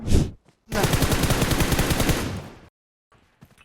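Gunfire in the mobile battle-royale game PUBG Mobile: a short shot, then a sustained rapid automatic burst lasting about two seconds, loud and close, followed by faint distant shots.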